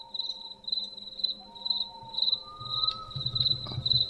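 A synthesized night insect sound made on an ATOMS synthesizer: a cricket-like chirp pulses in a steady repeating rhythm over faint sustained tones, with a low rumble swelling near the end.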